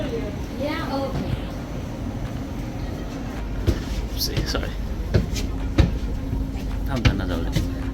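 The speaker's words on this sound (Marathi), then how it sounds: "हे निघालो आम्ही आमच्या ट्रेनमध्ये" Train in motion, heard from inside the carriage on a trip to Belgium: a steady low rumble with scattered clicks and knocks throughout, while people talk over it.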